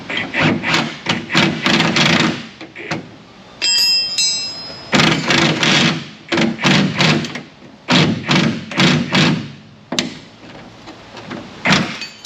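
An impact gun works on the rusted springs of a Chevrolet Silverado 5.3 in loud, repeated hammering bursts with short pauses between them, and a brief metallic whine partway through.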